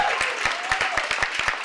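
An audience applauds a high school principal at a county commissioners' special presentation, with sharp, distinct claps landing over a wash of clapping and a faint tone running behind it.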